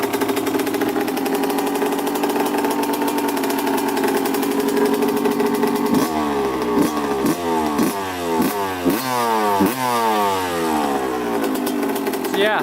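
Suzuki RM 125 two-stroke dirt bike engine running loud and close right after its first start-up, a steady buzzing idle that breaks into repeated sharp revs and blips in the second half.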